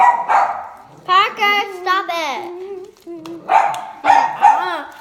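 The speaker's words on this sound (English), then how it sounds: "You can hear him barking." A small dog barks and yips close by in short bursts while someone speaks over it.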